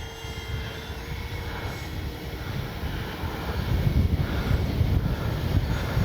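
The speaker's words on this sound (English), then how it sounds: "That's a good flying plane though." A Kavan Bristell B-23 RC model airplane flies overhead on a windy day, its engine a steady drone mixed with heavy buffeting wind rumble that grows louder toward the end.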